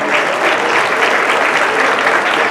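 Loud, sustained applause from an audience at a school's 50th anniversary ceremony, a thick, unbroken wall of clapping close by with no pauses.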